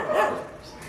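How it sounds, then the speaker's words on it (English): A dog barks in a short, loud burst during a street scene in Nepal, one rough bark that trails off into background noise. "Dog quarreling."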